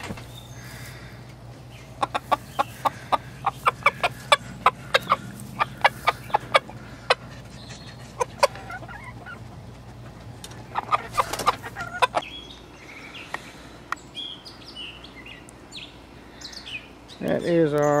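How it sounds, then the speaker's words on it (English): Buff blacktail Japanese Bantam chickens, one rooster and two hens, cluck and call in quick sharp bursts over a steady background hum, with a busier flurry of calls near the end. "That is our buff blacktail Japanese Bantams, I think they're called. We got one rooster and two hens."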